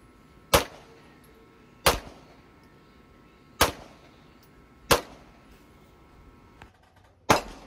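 Five sharp gunshots from a Canik TP9SFX 9mm pistol, spaced about a second or more apart, each a loud crack with a short ringing decay over a quiet outdoor range background, no talking.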